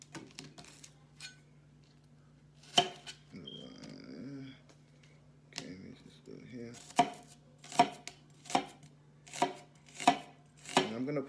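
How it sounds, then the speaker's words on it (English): Knife chopping an onion on a board for meatballs: a few scattered cuts, then a steady run of sharp, close chops about twice a second, with a low background hum and brief rustling between. "Okay, so cut that onion up."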